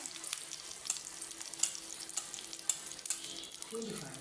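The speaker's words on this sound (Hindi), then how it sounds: "अब हम इसको भी इसी तरह से फ्राई कर लेते हैं" Shami kabab burger patties frying in a pan, with a continuous faint hiss and sizzle and a few light clicks and scrapes.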